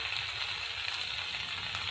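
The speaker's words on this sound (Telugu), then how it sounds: "మీడియం ఫ్లేమ్ మీద ఈ విధంగా ఫ్రై అవుతున్నాయండి" Continuous crackling sizzle of pieces frying over medium flame in oil with mustard seeds and curry leaves, close and steady, with no voices.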